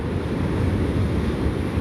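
Ocean surf at La Jolla Shores beach makes a continuous, even wash of rumbling noise with wind buffeting the microphone and no distinct breaking crashes or voices.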